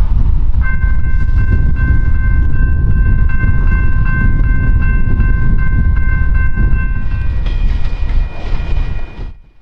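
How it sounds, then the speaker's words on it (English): A Via Rail passenger train led by a P42 locomotive with Budd cars rumbles past loudly and steadily into Windsor Station, its multi-tone horn sounding one long sustained chord over the rolling noise before it fades at the end. "We get a view of the train as they roll their final mile into Windsor Station"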